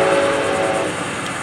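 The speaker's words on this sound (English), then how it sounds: "Looking for the southbound Brightline 726." Brightline southbound passenger trainset rushing past at close range, a loud steady roar of wheels and air with a tonal horn-like hum, sustained for the whole brief moment.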